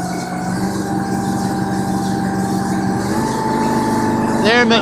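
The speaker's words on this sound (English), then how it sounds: "So I'll start to throttle up." A sewer jetter pump engine runs loud and close with a steady droning rumble, its pitch creeping upward as it throttles up, with a brief rising whine near the end.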